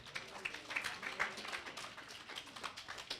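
Audience applause at an author talk, a dense wash of clapping that stays steady for a few seconds at moderate level, heard from within the room.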